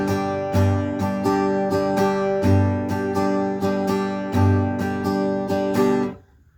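A guitar strummed in a common, fast pattern: steady rhythmic chord strokes repeating evenly for about six seconds, close and loud, then ringing off to silence.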